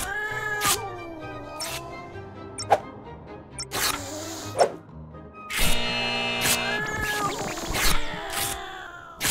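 Cartoonish cat meows from the Jazzpunk video game, several short separate mewls with pauses between them, loud and close, over a quiet game background with no talk.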